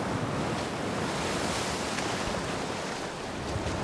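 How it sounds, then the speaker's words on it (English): Ocean waves and surf in the video game Horizon Forbidden West, a continuous loud wash of breaking water with wind-like roar, steady throughout and free of talk. "Wait, can I run into the waves?"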